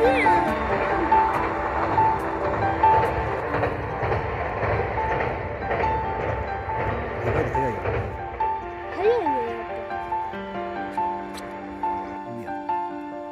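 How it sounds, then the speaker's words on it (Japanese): A one-man local train rumbles past on the Yosan Line's Kamogawa bridge in Saijo, Japan, with steady rail noise and a few high tonal squeals, while people talk over it throughout. "ワンマンの普通列車もどうぞ"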